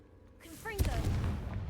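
A Confringo blasting spell in a Harry Potter video game goes off with a sharp, loud explosive boom. A voice calls out just before it, then a rumbling, crackling tail fades off.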